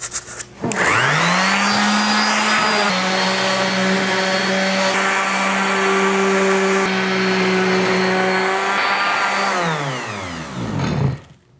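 A loud, steady motorized whine with a droning hum runs for about ten seconds, like a sander working alongside a roaring dust extractor, then winds down.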